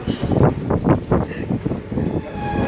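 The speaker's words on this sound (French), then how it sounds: "mon train qui arrive, mon métro qui arrive" A metro train pulls into a station with a rumbling, whooshing roar and rhythmic pulses of wheels and wind noise, loud and close, with a faint high whine fading in toward the end.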